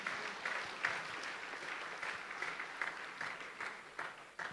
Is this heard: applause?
yes